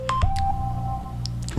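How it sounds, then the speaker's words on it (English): A mobile phone chimes with a notification: short tonal beeps and a sustained electronic tone, fairly loud and close, with a few clicks around it and no speech. "That's my phone."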